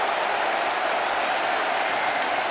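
Loud, sustained roar of a French rugby crowd cheering and applauding after a try, a dense wash of noise filling the stadium with no break.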